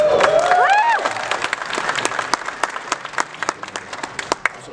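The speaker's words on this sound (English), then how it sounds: "you guys should applaud yourselves" Audience applause and cheering at a fan convention panel: a dense, loud burst with whoops at the start that thins into scattered individual claps fading away.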